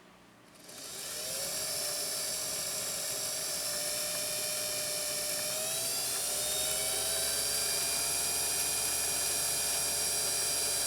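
A vintage Scottish-made Singer sewing machine whirs up to speed and runs steadily with a smooth high-pitched hum, no clanking, no talking.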